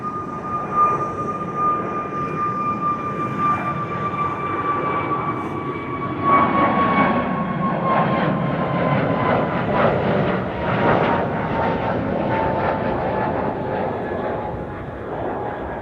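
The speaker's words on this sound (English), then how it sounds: "And here's a TUI MAX 8," A TUI Boeing 737 MAX 8 jet passes at Amsterdam Schiphol, a moderately loud, continuous engine roar with a steady tonal whine, swelling slightly midway.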